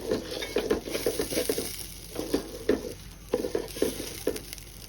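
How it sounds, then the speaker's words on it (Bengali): Polao rice is stir-fried in a pot, with a series of scraping, stirring strokes in short bursts over a soft background sizzle and no talking. "পোলাওয়ের চালটা কষিয়ে নিচ্ছি ভালোভাবে।"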